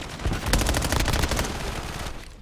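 Rapid automatic gunfire from a Call of Duty game, a dense close burst of shots lasting about a second and a half before fading out, with no speech over it.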